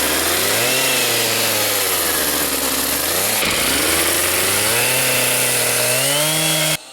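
A chainsaw runs loud and close for about seven seconds, revving up and down as it cuts wood while making furniture, with its engine pitch rising and falling in long sweeps before stopping abruptly.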